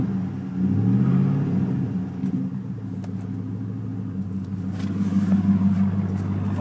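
A truck engine with dual exhaust gives a deep, steady rumble at moderate loudness, with a short rev near the start before it settles into a throaty idle.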